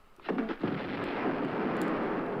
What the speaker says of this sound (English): just shoot a grenade as soon as you have your aim at him